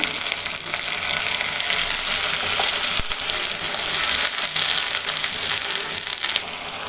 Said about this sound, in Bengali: এটা একটু আমি ভাজা ভাজা করে নেব। এখানে আমি একটু সামান্য পানি দিয়ে দিব।